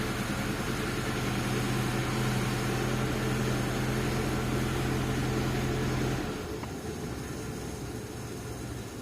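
A ZAZ Tavria's engine idles just after starting, a steady low hum with a constant drone that drops slightly and softens near the end, with no talk over it.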